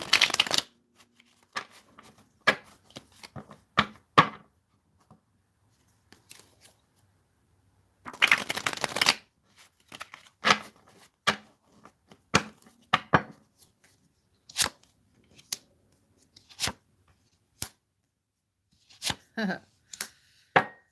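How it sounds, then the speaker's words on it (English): Repeated riffle shuffles of playing cards, crisp bursts of flicking and bridging in irregular bunches, close up, with short pauses between them. "let me get one or two more shuffles in here"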